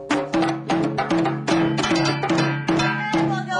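A samul nori Korean percussion ensemble plays a quick, loud rhythmic pattern: sharp metallic gong and drum strikes land in repeated pulses about every half second, each ringing briefly with a bright, clanging tone.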